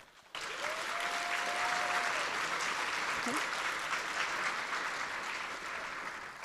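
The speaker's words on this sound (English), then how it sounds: "Give them a round of applause." Audience at a high school honors induction ceremony breaks into sudden, steady applause that holds at an even level throughout, with a brief voice audible early on.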